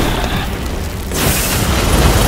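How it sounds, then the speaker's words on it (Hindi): A heavy booming bomb blast in the video game Ghostwire: Tokyo erupts midway through a rumbling din, followed by a loud sustained roar of debris and crackle. "ये बॉम्ब है मेरा"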